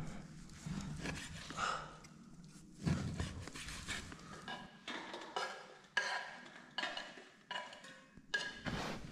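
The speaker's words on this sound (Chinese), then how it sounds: "腊肉炒大洋葱" Cured pork and onion being stir-fried in a pan, with repeated scraping and stirring knocks of a utensil and light sizzle, close up, in irregular bursts through the clip.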